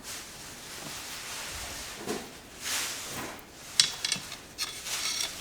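Residue glue is being cleaned off a graphite golf shaft for a Ping G25 driver reshaft, producing soft, steady rubbing and rasping strokes up close with a couple of small knocks.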